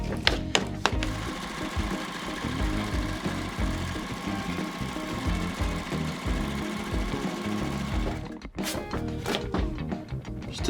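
A sewing machine stitches plastic quilt pieces in a continuous whirring run with a mechanical rattle, close by, before stopping briefly and starting again with a few clicks.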